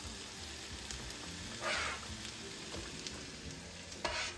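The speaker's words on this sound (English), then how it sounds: "Ooh, I love that sizzle." Chopped onions sizzle in olive oil in a large skillet, a steady crackling hiss with a few louder bursts as the pan spits, heard alone without talk.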